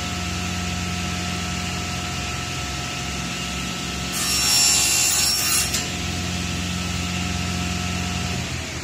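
Precision panel saw with a sliding table cutting laminated board, a constant motor hum with a brighter rasping cut lasting about two seconds in the middle, then the blade spinning on.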